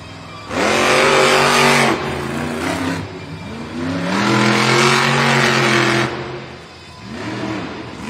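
Monster truck El Toro Loco, driven by Fernando Martinez, roars through a Monster Jam racing run in Tampa, Florida; the loud engine revs up in long rising surges, with brief dips between pushes.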